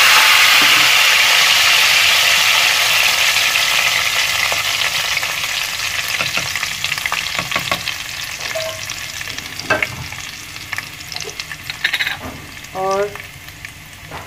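Tadka tempering poured into prepared spinach for palak gosht sets off a loud, broad sizzle that starts strong and slowly fades, with spoon stirs and clinks toward the end and a brief word spoken.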